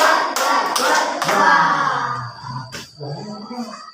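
Schoolchildren in a classroom clapping hands in a counting rhythm game, a few sharp group claps in quick succession followed by ringing voices and scattered claps, close and loud.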